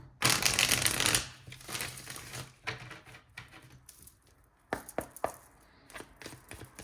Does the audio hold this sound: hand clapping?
no